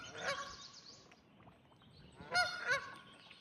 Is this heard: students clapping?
no